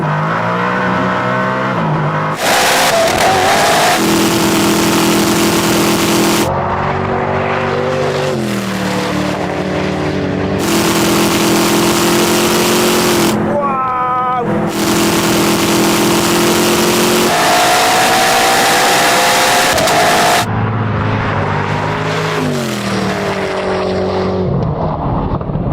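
Koenigsegg Regera and Agera launch side by side in a race, engines roaring loud and close, revs climbing in repeated surges with sharp gear-change dips between pulls.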